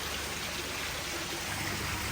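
A small waterfall and spring water at a koi farm pour with a steady, even rushing wash throughout, with no talking.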